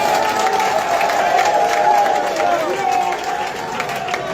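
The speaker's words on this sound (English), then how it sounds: "please can we give a Tayo Jegede a round of applause?" An audience at a public gathering applauds for Tayo Jegede, a sustained mix of clapping and crowd murmur with a voice tone running over the top throughout.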